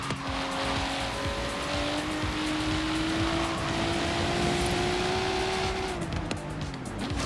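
Car engine in Forza Horizon 3 racing game, droning steadily with rising pitch and continuous tire noise as the car brakes, loud and close with no talk.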